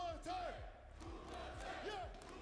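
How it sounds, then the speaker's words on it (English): A watch-party crowd at a Red Bull Kumite fighting-game finals shouts a two-syllable chant in unison, the group bursts rising and falling in a steady repeated rhythm, loud and close with roomy echo. "On the count of 3, I want to hear Kumite, Kumite."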